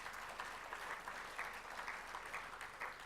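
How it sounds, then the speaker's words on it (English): A conference audience gives a round of applause, steady and moderately distant clapping that fills the whole short stretch without pause. "Can we have a round of applause for Lollipop?"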